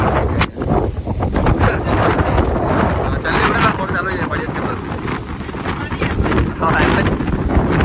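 Strong gusting wind of a whirlwind storm roars and buffets the microphone steadily throughout, with a person talking over it.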